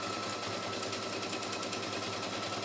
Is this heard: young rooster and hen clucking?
no